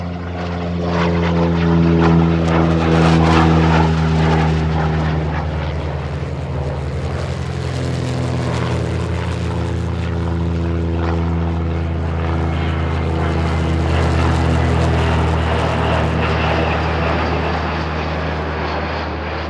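Propeller airplane towing an advertising banner, a loud droning engine with strong steady harmonics that swells and eases as it passes overhead.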